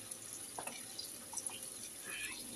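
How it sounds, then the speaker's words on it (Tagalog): Water being poured into a pan of kabsa as it cooks, a faint splashing trickle with a few small drips and gurgles, quiet and steady. "Ngayon, lagyan natin siya ng tubig"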